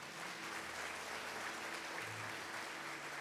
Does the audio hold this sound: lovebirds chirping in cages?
no